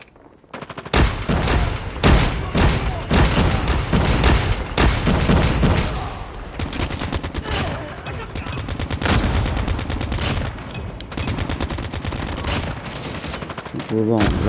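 Weapon fire in a video game, dense rapid automatic bursts of sharp close shots running nearly nonstop for about thirteen seconds, with brief gaps and a voice talking underneath.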